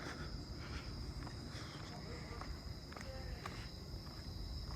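A katydid calls at night in a neighbourhood in cool late-season weather, faint repeated raspy pulses set against a steady high cricket drone and soft background noise.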